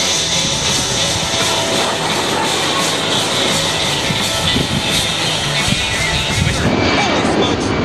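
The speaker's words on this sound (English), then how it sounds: "Now notice how quiet the C-17 is while passing show center." A Boeing C-17 military transport jet flies past show center at an air show, a steady broad roar of engine noise that holds loud throughout, with crowd or announcer voices faintly underneath.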